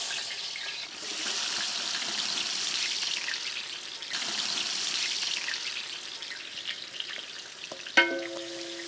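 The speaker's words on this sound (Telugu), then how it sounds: "దీంట్లోనే మనం ఈ ఉల్లిపాయలు యాడ్ చేసి చక్కగా బ్రౌనిష్ షేడ్ వచ్చేంత వరకు వేయించుకుందాం." Onions fry in hot ghee and oil for a mutton and potato kurma, a steady close sizzle with soft stirring, ending in a sharp metallic clink.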